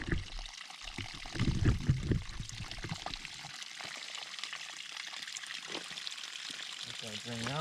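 Water drains from a cut waterline feeding an outdoor spigot on a farm, a continuous trickling, splashing flow heard close up, strongest early and then settling into a steady dribble.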